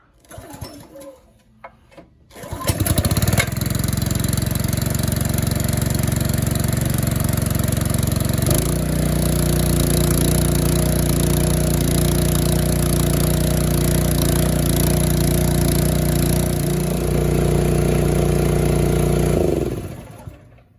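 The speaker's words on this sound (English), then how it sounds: "We got the little Susa starter going one more time." A small Honda or Briggs engine with a freshly repaired Susa-style pull starter starts after a few seconds and runs loud and steady at close range, then cuts out near the end.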